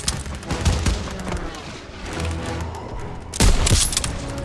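Dense rapid gunfire rattles through a realistic sniper mission in a modern military video game. Loud overlapping shots and booms fill the whole stretch, swelling into a heavier burst near the end, with no talking.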